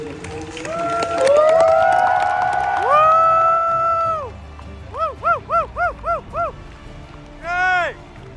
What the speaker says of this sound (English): Please put your hands together, raise your voices, and help us fill this hall with applause.